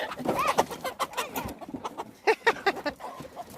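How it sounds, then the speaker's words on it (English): Homestead chickens clucking and cooing near the coop as they come to a call, with short bursts of bird calls rising and falling over a few seconds. "So the chickens come to a call"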